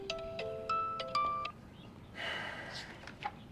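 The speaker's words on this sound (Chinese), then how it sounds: "我接个电话" A telephone ringtone plays a short, bright electronic melody of repeated tones in a quiet indoor scene, followed by softer, noisier tones and a brief beep near the end.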